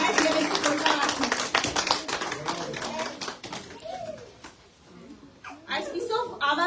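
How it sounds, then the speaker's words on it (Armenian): Hands clapping at a community Mother's Day celebration, a dense burst of applause that thins out midway and then picks up again, with children's voices mixed into the room sound. "Եվս մեկ անգամ ծափարենք իրենց"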